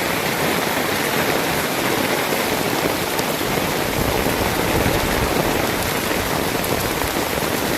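Heavy first monsoon downpour over Nashik streets, a loud, steady roar of rain pounding surfaces without letup, close and continuous with no voices.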